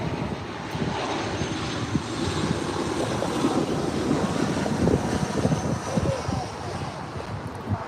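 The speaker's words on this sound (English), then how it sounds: "So we've got a Southwest 737," Southwest Boeing 737-700 landing on runway 24R at LAX, a steady roaring jet rumble heard from a distance, with wind buffeting the microphone throughout.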